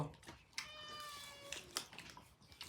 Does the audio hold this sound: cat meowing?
yes